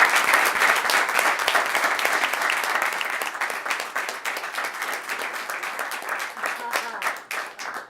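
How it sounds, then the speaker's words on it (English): Audience applause at a 1 Million Cups startup presentation event in Kansas City, dense clapping that gradually thins into scattered claps toward the end. "Big round of applause, and thank you again."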